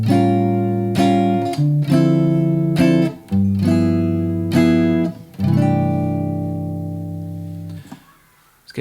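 Sustained guitar chords ring out one after another, changing a few times before settling on a final lingering C6/9 chord that fades away.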